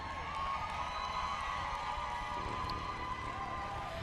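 An audience at a graduation ceremony claps and cheers in a steady, dense wash of applause with scattered shouts, moderately loud and without speech.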